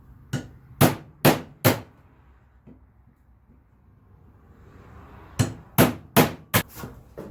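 Hammer blows drive a big chisel into wood, cutting blocking on a rescued stepladder: four sharp, loud strikes in quick rhythm, a quiet pause, then another burst of five or six close blows.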